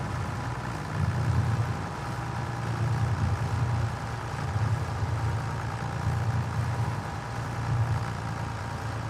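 In a farming video game, a tractor engine pulls a chisel plow during fall tillage, giving a steady, droning low rumble with slight rhythmic pulsing throughout and no speech.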